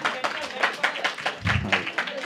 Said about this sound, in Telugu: రండి చక్కని అందరూ చప్పట్లు కొట్టండి ఒకసారి.